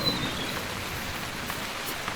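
Rain falls in a thunderstorm in the wilderness game Call of the Wild, a steady, dense hiss of downpour with faint scattered drop ticks, continuous and even throughout with no voices.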